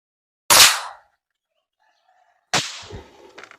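Two sharp, loud shots from a CZ 457 .22 rifle with copper-plated high-velocity rounds, about two seconds apart, each a crisp crack with a short decay, the second followed by faint rattling and clatter.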